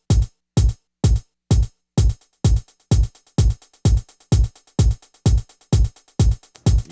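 A drum pattern run through a delay effect set to sixteenth notes, rapid repeating hits echoing in a tight, busy rhythm, loud and alone with no talking.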